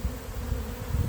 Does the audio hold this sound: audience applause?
no